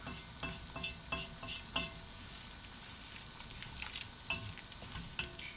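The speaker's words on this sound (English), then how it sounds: "I'm going to cook that just a little bit, and then I'm going to add the onions." Seasonings fry in a large pan before onions go in. A close, steady sizzle and crackle carries throughout, broken by a few sharper scraping stir strokes. No one speaks.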